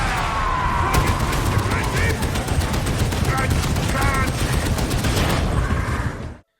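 An Ogryn's gun in the video game Darktide fires in a long, dense, rapid burst, loud and close, with in-game voices and effects mixed in until it stops abruptly.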